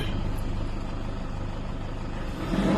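A Toyota Innova engine runs steadily at idle after being restarted, a continuous low rumble that holds even throughout and swells slightly louder near the end.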